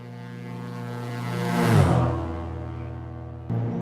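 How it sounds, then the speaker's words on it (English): Twin propeller engines of a Piper Aztec PA23 in the X-Plane flight simulator drone steadily, building into a slow pulsing beat that swells and fades before a sudden shift in tone near the end, with no talking. "you'll hear shortly the sound of the engine going woo, woo, woo, woo, and it's very irritating"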